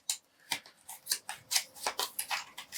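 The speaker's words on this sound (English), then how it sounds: "And I got to shuffle this long enough that I lose track of which card is which" Playing cards being shuffled by hand, a quick series of crisp riffling bursts close to the mic, rhythmic and fairly faint.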